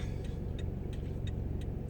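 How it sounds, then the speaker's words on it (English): Low, steady engine rumble from cars creeping in bumper-to-bumper traffic, heard close, with faint regular ticking over it and no voices. "Traffic is not moving too well today."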